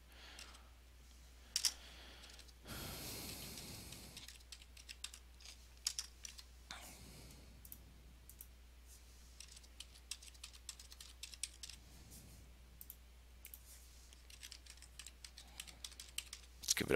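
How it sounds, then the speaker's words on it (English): Computer keyboard typing at close range while setting up a DHCP server, irregular clicky keystrokes through a low steady hum, with a brief louder rustle early on and no talking. "Let's go ahead and click in here."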